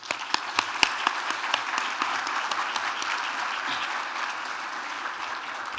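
An audience at an annual aging conference applauds for several seconds, a dense crowd of clapping hands with a few louder nearby claps standing out at the start before it settles into an even roar.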